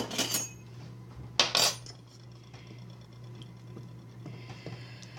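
A spoon clinks sharply against dishes in two quick bursts, close and bright, followed by faint scattered ticks over a quiet steady hum.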